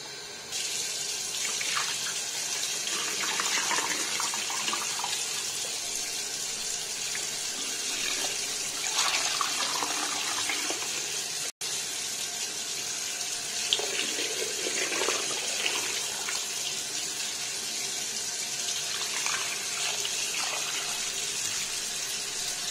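Cold water pours from a kitchen tap into a pot, a continuous close hissing gush that runs steadily, briefly cut off midway before resuming.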